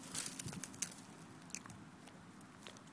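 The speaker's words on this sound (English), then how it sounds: "Why you always gotta be chewing on something?" A pet chews and gnaws on something close by, producing soft wet crunching and squishing bites at an irregular pace with no voices.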